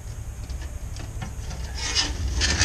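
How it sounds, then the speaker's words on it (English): A handheld deburring tool with two hardened steel edges scrapes burrs off freshly cut metal edges during fuel cell fabrication for a Baja Bug. Soft, close rasping strokes grow slightly louder toward the end, with no talking. "run it across the metal, and it'll peel up the edges and take off the burrs"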